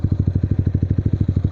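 A Yamaha XSR 155 motorcycle engine idles nearby with a loud, regular thumping pulse, about ten beats per second, that stays even from start to finish.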